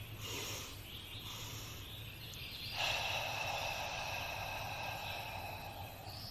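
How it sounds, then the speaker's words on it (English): A slow, steady breath pushed out through a narrowed throat, as when fogging a mirror, heard close and quiet as a soft sustained hiss that swells partway through and holds without any talk. "When exhaling, you could also contract your throat, imagining like you're fogging a mirror."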